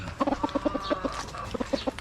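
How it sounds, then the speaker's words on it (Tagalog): A Boston Gold broodcock rooster clucks in quick bursts of short, fairly close clucks, one run and then a second after a brief pause. "Ito yung ating Boston Gold na broodcock natin."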